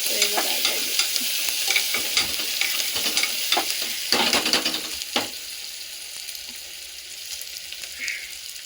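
A tempering fries in deep hot oil while being stirred: a bright, close sizzle with repeated scraping strokes for the first few seconds, then a softer, settling hiss as the stirring stops.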